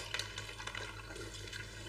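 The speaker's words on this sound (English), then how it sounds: "So I'm going to be adding some water to it." Water poured into a glass of Ribena blackcurrant drink: a faint, continuous trickling and splashing of liquid, quiet and close, with no talk over it.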